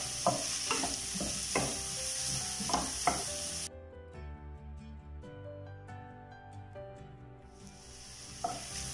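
Chopped cabbage and onion frying in a pan for masala dosa filling, with close sizzling and a few sharp stirring scrapes, then a quieter stretch of steady tonal hum before the sizzle returns.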